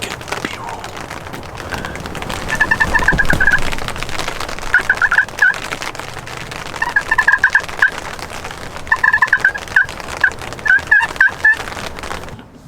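Wild turkey gobblers gobble repeatedly in a cold rain, several rattling calls from a middle distance spread across the stretch, over steady rain and some close rustling noise.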